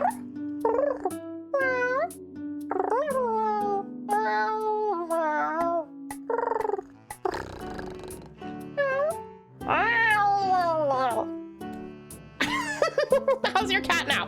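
A house cat meows repeatedly in clear, close, rising and falling calls, some drawn out, with brief bursts of other noise and laughter-like sounds between them.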